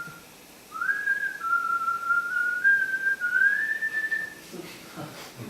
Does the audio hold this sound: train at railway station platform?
no